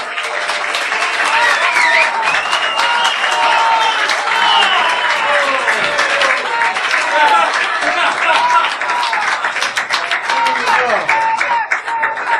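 An audience at a security conference talk claps and cheers for an encore, loud dense applause with scattered whoops and overlapping voices sustained throughout.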